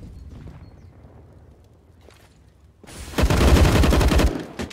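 Dense, loud burst of rifle fire erupts midway through a Counter-Strike match on the Inferno map, AK, AUG and SG shots overlapping in a rapid exchange after a quieter, muffled stretch.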